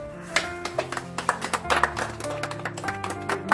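A small group claps in a loose, uneven patter of distinct hand claps, close and moderate, with musical tones underneath, at a birthday surprise gathering on Kınalıada.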